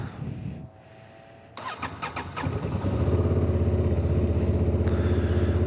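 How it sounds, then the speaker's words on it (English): A Honda Transalp 750 motorcycle engine cranks briefly and catches, then settles into a steady, close idle with a loud, even throb. "So let's fire her up."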